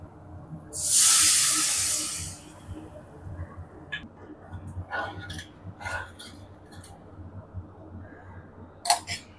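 Tamarind water hits a hot pan of sautéed garlic and onion for a tangy thokku, bursting into a loud hissing sizzle that fades within a couple of seconds, followed by quieter bubbling and a few utensil clinks.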